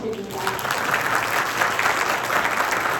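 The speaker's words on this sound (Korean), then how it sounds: "큰 박수 한번 부탁드립니다" Conference audience in Korea gives sustained applause after a talk on AI-era organizations, a dense, steady wash of many hands clapping throughout.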